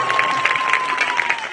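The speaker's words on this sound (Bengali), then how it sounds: "এটা জোরে হাততালি দেবেন" An audience at an evening devotional discussion during a Parikrama gathering claps loudly, with dense, sustained applause running steadily throughout, close and full.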